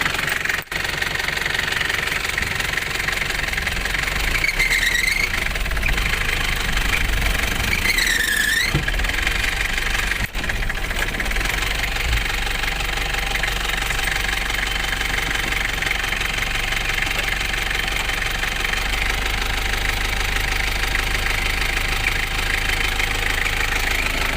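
Kia Pregio van engine brought back to life after ten years parked in one spot, idling loudly and close with a steady knocking rattle and occasional brief squeals throughout, no voices.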